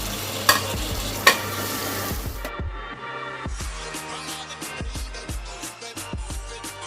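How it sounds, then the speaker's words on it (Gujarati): Finely chopped tomato goes into a pan of frying soaked puffed rice snack (mamra) and is stirred, with steady sizzling, a couple of sharp utensil clacks early on, and rhythmic scraping as the mixture is turned. "તો હવે આપણે એની અંદર ટામેટું નાખી દઈશું."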